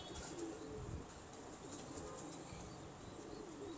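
Pigeons, pedigree fancy birds, coo softly at close range in a quiet loft, low murmuring calls repeating over faint background hiss, with a light flutter of wings.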